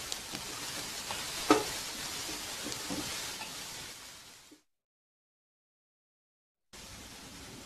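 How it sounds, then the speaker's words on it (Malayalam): Chopped onion, ginger and garlic sautéing in a pan give a steady, close hiss of sizzling for several seconds with a brief stir clatter, then a sudden drop to silence before the sizzle returns. "നമ്മുടെ അരിഞ്ഞു വെച്ചിരിക്കുന്ന ഓനിയനും ജിഞ്ചറും ഗാർലിക്കും ഒക്കെ കൂടി ഇട്ട് ഇതിന് നമുക്ക് ചെറുതായിട്ടൊന്ന് സോട്ട് ചെയ്തെടുക്കാം"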